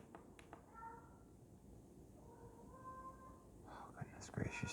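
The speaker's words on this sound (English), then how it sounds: "the cat is freaking out right now" A pet cat meows in short drawn-out agitated cries, faint and indoors, with quiet speech and whispering in the room and a louder burst of yowling near the end.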